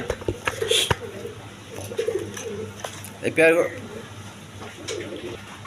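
Caged pigeons at a market stall, Mookee pigeons among them, give soft intermittent coos close by, mixed with clattering, handling noises and brief bursts of people talking.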